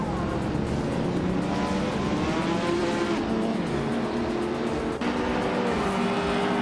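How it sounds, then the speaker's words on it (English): Race cars in a racing video game at High Speed Ring, led by a classic 1988 Opel Ascona, roaring and accelerating through gears in a continuous dense engine drone with rising pitch sweeps, loud and steady, no talking. "the race is underway at high speed ring, and Radiant Vixen is starting on pole in a classic 1988 Opel Ascona CG"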